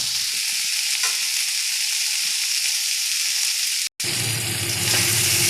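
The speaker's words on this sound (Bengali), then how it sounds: "দেখুন পটলটা সুন্দর ভাজা ভাজা হয়ে এসছে" Pointed gourd (potol) fries steadily in a pan with a continuous close sizzle, broken by a brief silent gap before the frying resumes somewhat louder.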